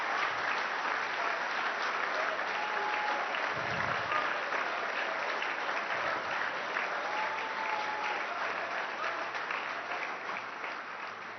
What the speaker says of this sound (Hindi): I think we can give him a big round of applause.